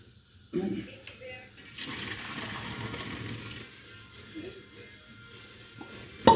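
Water from boiled homemade noodles pours out of a pot into a drain for a few seconds, a rushing, splashing flow that fades, with a voice talking briefly around it.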